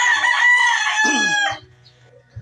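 A young gamecock stag crows loudly and close by, one full cock-a-doodle-doo call lasting about a second and a half and trailing off into quiet farmyard background.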